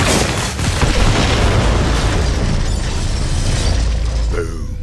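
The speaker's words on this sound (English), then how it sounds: "The explosion echoed through the forest" Planted bombs explode in a forest in the video game Borderlands 3, a loud, deep, rumbling blast with crackling debris that rolls on for several seconds before tapering off.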